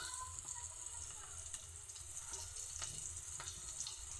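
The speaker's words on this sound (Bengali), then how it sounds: "ভালোভাবে আলুটাকে ভেজে নিই।" Boiled potatoes seasoned with salt and turmeric fry in oil in a pan, a close, continuous sizzle with small crackles and occasional stirring clinks.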